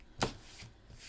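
Tarot cards shuffled in a single brisk riffle burst near the start, followed by faint soft card sounds, close and quiet with no talking.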